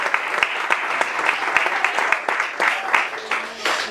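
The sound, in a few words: congregation applause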